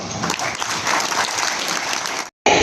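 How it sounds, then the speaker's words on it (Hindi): Loud, dense applause from a crowd at a government ceremony handing out appointment letters to dentists and medical officers, sustained for over two seconds, then a brief gap before clapping resumes. "तालियां आपकी ओर से लगातार होती रहे"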